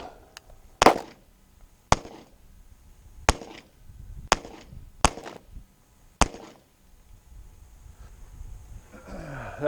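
A Canik Mete MC9LS pistol fires six sharp, loud gunshots at a shooting range, spaced roughly a second apart with quiet gaps between, followed by some rustling handling noise.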